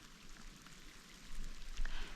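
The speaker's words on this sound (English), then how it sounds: "As you guys can see, the rain is back." Rain falling steadily outdoors on a fishing trip with cloud cover overhead, a soft continuous hiss of drops with a few slightly louder patters toward the end, no voices.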